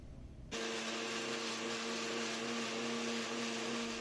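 A blender grinding onions into a paste for onion murukku dough starts abruptly after a brief quiet moment, then keeps up a loud, steady whirring drone with no talk over it.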